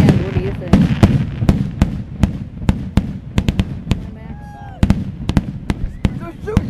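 Fireworks burst one after another at a Fourth of July display in Ohio in 2009, sharp bangs and crackles at an irregular pace, with people talking and reacting throughout.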